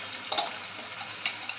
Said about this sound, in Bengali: এটাও ভেজে নেব।